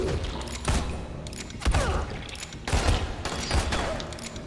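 Gunshots in Dying Light on hard difficulty, a rapid series of loud, sharp reports in uneven bursts, with a few heavier thumps mixed in and no talking.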